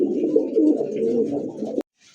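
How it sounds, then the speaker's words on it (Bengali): Indian Bombay pigeons coo in a low, throaty, continuous warble close by, rolling on for nearly two seconds before cutting off abruptly with a sharp click, then near silence. "এই মুহূর্তে দেখতে পাচ্ছেন আলমের হাতে দুই দুটা কবুতর আছে"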